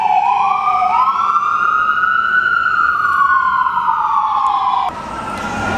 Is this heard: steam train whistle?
no